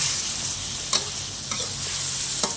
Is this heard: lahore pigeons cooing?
no